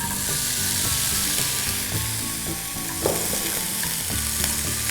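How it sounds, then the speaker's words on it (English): Capsicum fries in oil in a pan for a tricolour pulao, a steady loud sizzle with frequent spatula stirs and scrapes, close by, no voices. "this time we are going to be cooking the capsicum"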